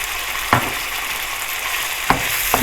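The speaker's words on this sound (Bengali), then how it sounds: "আদা রসুন পেস্ট এটাকে আমি আরেকটু এভাবে একসঙ্গে ভুনে নিচ্ছি" Ginger garlic paste fries in a hot pan for a tuna fish shami kabab, a steady close sizzle broken by three brief scraping stirs of a spoon.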